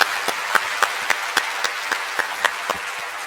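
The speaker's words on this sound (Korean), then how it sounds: "우리 하나님께 감사 박수 올려드리겠습니다." Congregation at a Sunday church service clapping together in a steady, unison rhythm, about a dozen crisp, evenly spaced claps filling a reverberant hall.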